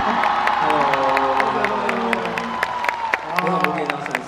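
A live concert crowd applauds and cheers loudly and steadily, with whoops and shouts rising over the clapping and a voice speaking through part of it.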